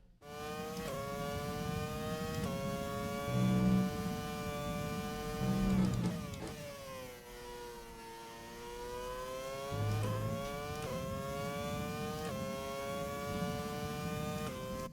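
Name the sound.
F1 car engine revving in F1 2020 video game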